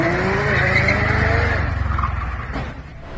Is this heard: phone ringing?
no